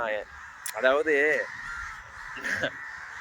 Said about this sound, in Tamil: மேலே பார்த்தீங்கன்னா காக்கா பசங்க சரௌண்ட் பண்ணிகிட்டு இருக்காங்க